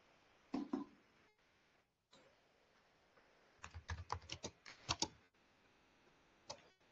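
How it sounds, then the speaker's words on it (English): Computer keyboard typing in bursts: a few isolated keystrokes early, then a quick run of clicky taps near the middle and one last stray key, fairly close with quiet pauses between. "just type Word to PDF converter"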